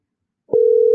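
A telephone busy signal on a failed call: after a brief click, a steady, loud single tone holds without a break until the end.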